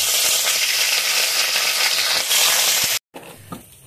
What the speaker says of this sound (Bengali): এখন আমি তেজপাতা, এলাচ, লবঙ্গ তেলের মধ্যে দিয়ে দেব।